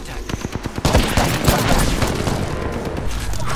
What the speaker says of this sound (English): They completely destroyed me with a G7.